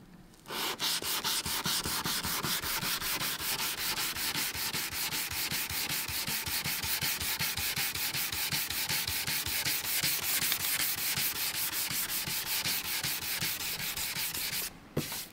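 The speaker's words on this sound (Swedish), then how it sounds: "När vi slipar bort det så kommer man hela tiden följa en sån kant. Så slipar man tills det försvinner." A car headlight lens is sanded to strip its UV coating: rapid, regular back-and-forth scraping strokes, close and even, continuing without pause for about fifteen seconds before stopping abruptly, with no talking.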